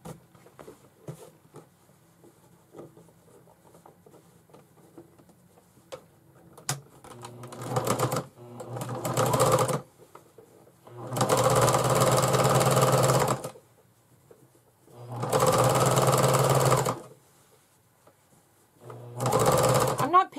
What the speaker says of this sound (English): then I'm going to stitch the whole thing down in just a simple straight stitch